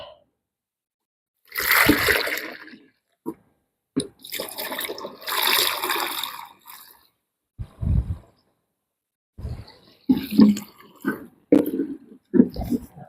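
Water splashing into a garden sprayer tank as it is topped up to 10 litres, coming in several bursts of pouring and splashing with short pauses between them, close by.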